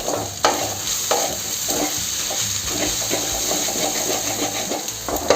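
An egg fry mixture sizzles steadily in a pan while a spoon stirs it, giving a continuous hiss broken by regular scraping strokes, loud and close.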